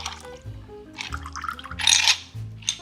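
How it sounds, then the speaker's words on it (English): Rye whiskey, sugar and Peychaud's bitters strained into a chilled glass coated with Herbsaint, with a close, soft trickle and splash, light clinks and a brief louder gush near the end. "Now I'm going to strain this mixture of rye whiskey, sugar, and Peychaud's bitters into my chilled herb saint coated glass."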